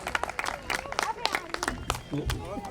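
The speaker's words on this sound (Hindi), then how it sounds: "आप लोग रामनंदन जी के लिए तालियां बजाएं" An audience at a stage event in BHEL Bhopal breaks into applause, with scattered claps and a ripple of crowd noise mixed under a voice talking over it.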